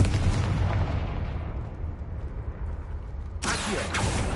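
A Confringo spell explodes in the Hogwarts Legacy video game with a heavy, rumbling boom that fades slowly, followed by a second sharp blast near the end.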